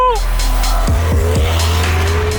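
A tuned VW Golf 7 R with a 2.0 TFSI four-cylinder at stage 2 and 400 hp rumbles loudly up close, its exhaust crackling with a few quick pops from the bypass over a steady low engine drone.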